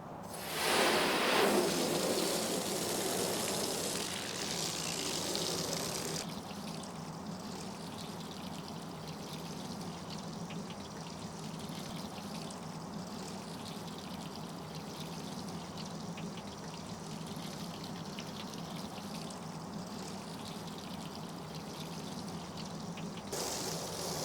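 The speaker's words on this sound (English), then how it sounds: "we're gonna go ahead and just give it some full blast water and show you a little bit how the water sheets" Water at full blast from a hose sprays and sheets off a car's coated paint, a loud rushing spray that settles into a steady hiss and continues alone.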